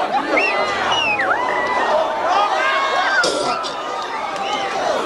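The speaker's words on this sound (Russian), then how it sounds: "Мы приветствуем их своими воплями, своими криками. Громче!" A large crowd at a punk rock concert screams and cheers loudly and continuously, with many high shrieks and whoops layered over a dense roar of voices.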